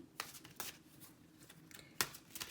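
Oracle cards are shuffled by hand in a quiet room, giving soft riffling bursts at irregular intervals, with one sharper snap near the end.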